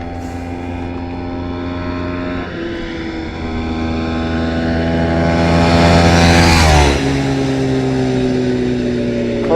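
A Kawasaki motorcycle is ridden flat out at top speed, its engine holding a loud, steady high-pitched drone with a gear change partway through and a swelling pass near the end, and no voices.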